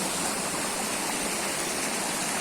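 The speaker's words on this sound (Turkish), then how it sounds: "Saatlerce dere böyle akıyor ya." A muddy, oddly coloured stream flows in a loud, steady, close rush of water that stays constant throughout, with no voices.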